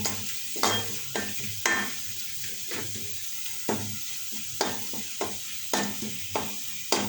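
Tomatoes tipped into a pan of fried dried chillies and chopped garlic, frying with a steady sizzle while a utensil stirs and scrapes in repeated strokes, close and alone.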